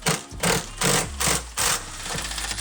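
Ratchets drawing a transmission into a Mustang Boss 302, heard as five loud, evenly spaced bursts of clicking about half a second apart, close by, with no talk.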